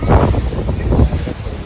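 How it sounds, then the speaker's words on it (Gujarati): A sea breeze near a beach at Diu buffets the microphone with a steady, low, gusty rumble that swells and eases over a couple of seconds. "બીચ પાસે એટલે હવાઈ એવી આવે છે"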